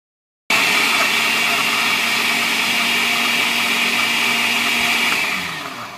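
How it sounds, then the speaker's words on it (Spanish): A kitchen blender liquefying tomato with egg white for a face mask, switching on abruptly and running loud and steady with a high whine for about five seconds before winding down. "vamos a agregarle la clara de huevo y vamos a ligar bien en nuestra licuadora estos 2 ingredientes"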